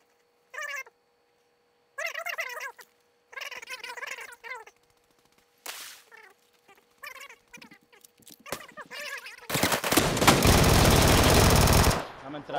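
Gunfire in the battle-royale shooter PUBG, a dense, loud burst of shots erupting late, after several short gaps filled with voices and game sounds.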